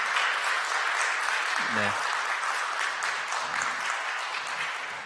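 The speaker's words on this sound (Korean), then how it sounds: "다시 한번 좀 박수 한번 보내주시죠" Sustained applause from a crowd at a church lecture, steady and full throughout, with a brief low voice sound partway through.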